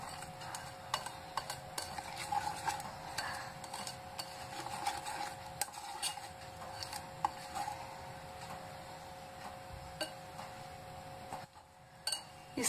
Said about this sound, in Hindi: इस तरह से सारे किनारे से इसको एक बार हटा लें, मिक्स कर लें अच्छे से किनारे पर जो बैठ चुका है।